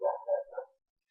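A dog barks three times in quick succession, moderately loud and close, followed by silence, with no talking.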